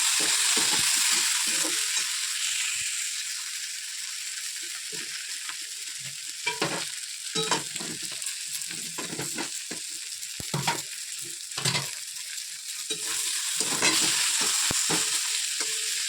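Turmeric and cumin powder sizzle steadily in a hot pan, with occasional scraping and clinks of a spoon stirring, continuous and close.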